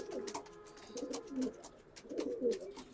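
Racing pigeons coo in soft, low repeated phrases, a few throaty calls rising and falling over about three seconds, fairly close but quiet.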